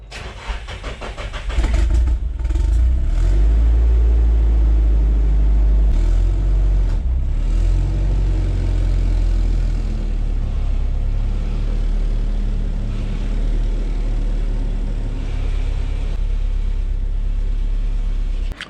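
A Nissan 180SX with a forged SR20 engine fires up after a short quiet start and settles into a loud, deep, steady idle rumble close by as it is pulled out of a garage.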